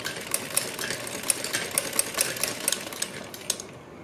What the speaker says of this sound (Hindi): और पट्टी के ऊपर हमें सिलाई लगानी है।